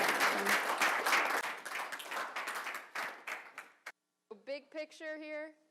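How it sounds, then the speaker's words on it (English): Audience at a medical presentation on adolescent idiopathic scoliosis claps for a presenter, a moderate burst of applause that thins out and stops midway, followed by a person speaking. "Kacy deserves a good round of applause for rallying"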